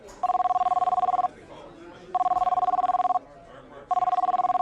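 A cell phone rings in a restaurant: a bright electronic trill in three bursts of about a second each with short gaps, loud and close over faint room murmur.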